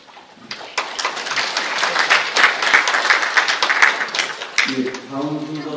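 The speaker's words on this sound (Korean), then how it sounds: "박수." Conference audience applauding at the close of a presentation, a dense sustained wash of clapping that starts abruptly, stays loud for several seconds, then fades as a voice begins speaking at the end.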